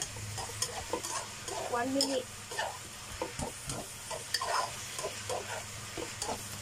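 Yam noodles stir-fried in a pan give a steady sizzle with scraping stirs throughout, and a voice speaks briefly over the cooking.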